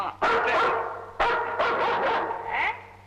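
An Alsatian dog barks in a short run of loud, close barks, two bursts separated by a brief pause, heard in a Tamil comedy film scene.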